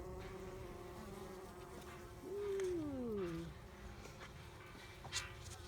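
Bees buzz softly in a low, steady drone, with one insect briefly swelling louder as it passes close.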